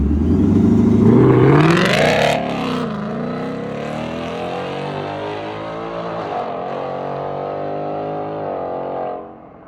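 A Mustang GT with an X-pipe, resonator delete and active exhaust set to track mode revs hard and accelerates, loud and close, the rising raspy engine note climbing through the gears before settling into a steady cruise.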